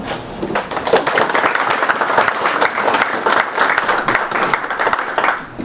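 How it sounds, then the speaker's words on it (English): Dense, steady applause from a large audience, many hands clapping at once, loud and sustained throughout without letting up. "I want to give them a round of applause"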